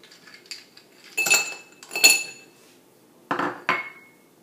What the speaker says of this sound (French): On commence par y mettre nos glaçons.